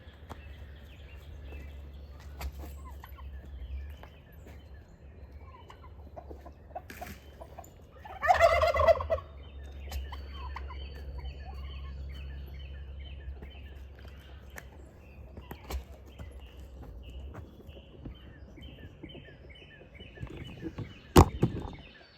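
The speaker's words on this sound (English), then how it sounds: "And the gobblers are still there." Turkeys gobble outdoors near a nesting area, one loud gobble bursting out around the middle of the clip over steady low background rumble, followed by quieter scattered calls and a sharp knock near the end.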